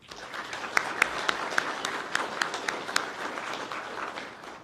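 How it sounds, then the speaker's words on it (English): Applause for police leaders at a law enforcement academy graduation ceremony: a moderate, fairly sparse round of clapping with distinct individual claps standing out over a steady patter, lasting the whole stretch. "Ladies and gentlemen, please give them a round of applause"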